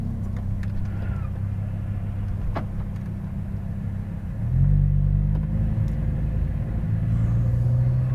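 A Lamborghini Huracan Performante rolls forward from a stop, its engine holding a steady low rumble that swells and grows louder about halfway through, up close and without talk.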